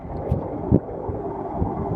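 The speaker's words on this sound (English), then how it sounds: "it's extremely windy" Steady low rumbling wind buffeting the microphone in Jerome, Arizona, with gusty thumps rising and falling throughout and no voices.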